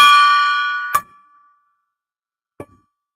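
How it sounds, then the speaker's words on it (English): A gong is struck once and rings out loud and bright, fading away, then two short dull knocks follow with quiet in between. "Let's ring the gong 3 times."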